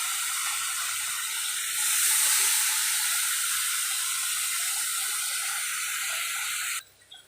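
Prawns dropped into a hot pan, a loud continuous hissing sizzle that swells shortly after the start, holds steady, and then cuts off abruptly near the end.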